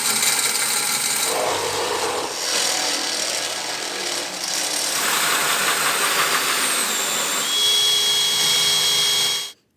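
A power drill bores holes in metal on a flatbed fabrication project, its motor whining loudly and continuously with shifting pitch as the bit cuts, ending abruptly.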